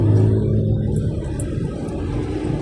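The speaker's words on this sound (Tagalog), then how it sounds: "Okay guys, may traffic ngayon" Car engines idling and rumbling in slow city traffic on the steep roads of Baguio City, a steady low drone that continues without a break for the whole stretch.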